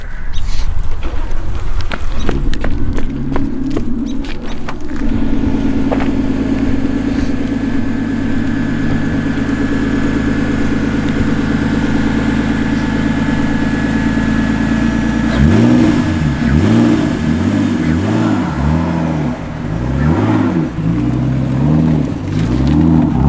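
An RB20-swapped Toyota AE86 drifting, its engine holding a loud sustained high rev with harmonic wails, then cycling rapidly up and down in repeated surges near the end, close and continuous.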